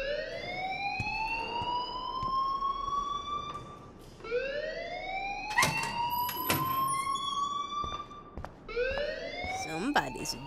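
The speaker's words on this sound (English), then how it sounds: "please turn off that alarm since that's your job" A fire alarm rings inside a school in the Life is Strange video game, loud and close. Its rising electronic whoops repeat about every four seconds, with sharp clanks and knocks breaking in.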